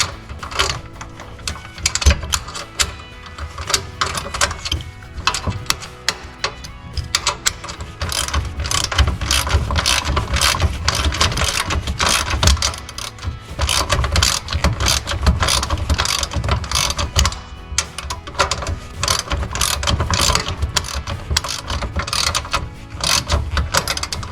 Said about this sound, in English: Again, these are 11/16" wrenches.